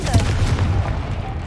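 A Confringo blasting spell goes off in Hogwarts Legacy inside a tomb, a dense booming burst of low rumbling impacts with a crackling edge that stays loud across the whole moment.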